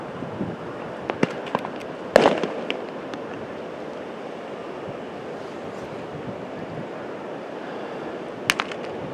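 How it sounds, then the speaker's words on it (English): Roman candle fireworks go off at a Texas beach on New Year's, a few sharp distant pops and bursts spaced seconds apart over a constant wash of surf and wind. "I guess I don't make Roman candles like they used to."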